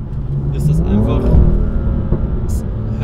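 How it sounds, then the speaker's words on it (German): A BMW M2 LCI F87 with the DKG dual-clutch gearbox accelerates hard, its engine note rising through the revs and then easing, loud and close, with brief high-pitched tire or exhaust sounds near the start and end. "Und wie er die Gänge wechselt, wie er den Sound aufbaut"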